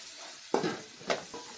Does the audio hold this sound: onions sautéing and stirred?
yes